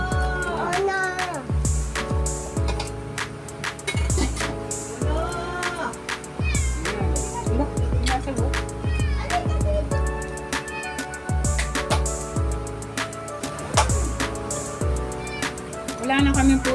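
A cat meows repeatedly in short, rising calls, close and fairly clear, mixed with people talking throughout.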